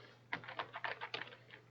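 Computer keyboard keys tapped in a quick, irregular run of soft clicks, Braille-style typing on a standard keyboard, close but quiet over a low steady hum, with no talking.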